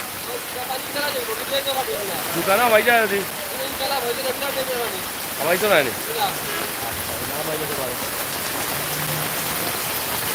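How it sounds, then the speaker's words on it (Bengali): Heavy night rain in Sylhet pours down in a dense, steady hiss, with people talking over it in the foreground. "প্রচুর বৃষ্টি হচ্ছে।"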